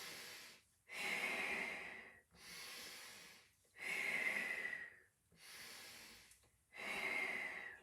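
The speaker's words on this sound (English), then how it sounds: "So we're breathing out, breathing in." During a Pilates exercise, loud, close breaths alternate in and out at a steady, slow rhythm, six long airy exhalations and inhalations with brief pauses between, and no talk.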